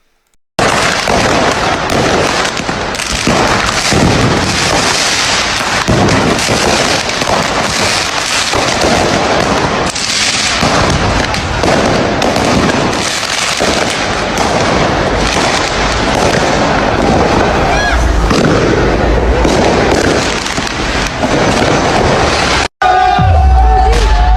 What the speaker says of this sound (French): les feux d'artifice en France sont interdits à la vente